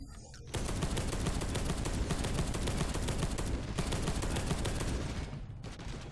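Sustained rapid autogun fire in Space Hulk: Deathwing rattles loudly and nearly without break, a dense burst of overlapping shots that tapers off briefly near the end.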